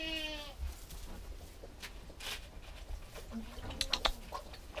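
A goat bleats a few short, nasal cries on a farm, mixed with scattered animal noises and brief background sounds, moderately close.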